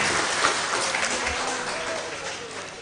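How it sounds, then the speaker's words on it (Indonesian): Audience applause at a televised debate of three South Kalimantan governor candidates, a steady wash of clapping filling the hall for a few seconds and easing off slightly toward the end. "Kita berikan tepuk tangan yang meriah kepada ketiga calon gubernur Kalimantan Selatan."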